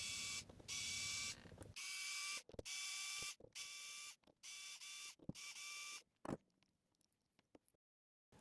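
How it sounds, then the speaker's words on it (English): Screws are driven out of a urethane overmolding mold for 3D printed parts, with a series of steady whirring bursts from a driver, each a second or so long, then trailing off into scattered faint clicks and a quiet stretch. "I'm going to start by removing all of the screws"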